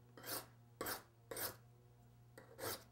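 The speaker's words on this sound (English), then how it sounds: "This is a diamond file, so I put it against a surface where it's stable." A grafting knife is sharpened on a diamond file, making five short, close rasping strokes in a quiet room, each a brief scrape with small gaps between.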